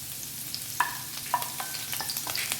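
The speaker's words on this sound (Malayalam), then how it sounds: "ഇവ ചേർത്ത് ചെറുതായി ഫ്രൈ ചെയ്യുക." Ginger and garlic frying lightly in a pan for Dragon Chicken, a soft steady sizzle with a few faint clinks of stirring.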